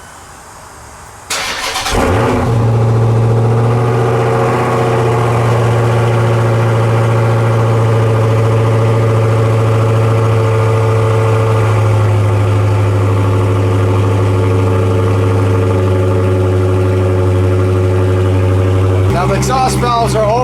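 A Dodge Hellcat fitted with an Active Exhaust Solutions exhaust fires up with a sharp cold-start bark, then settles into a loud, deep, steady idle rumble close by for over fifteen seconds before a brief rev change at the end.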